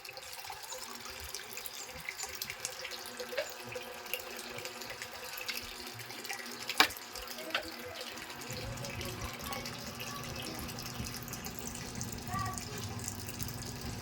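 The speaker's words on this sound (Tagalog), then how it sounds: "tsaka natin sasalinan ng tubig" Water runs and splashes steadily as it is poured into a motorcycle cylinder head block for a water test, a continuous faint gush with brief clinks, while a voice talks over it.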